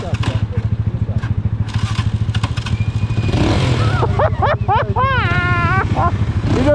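Motorcycle engine idling with a steady low throb at a Jamaican biker memorial, rising into louder revving while voices shout and talk over it close by.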